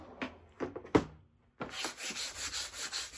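Fabric being rubbed down by hand onto an AccuQuilt Go! flying geese cutting die, giving a few short scuffing rubs and then a steady run of rhythmic, close brushing strokes.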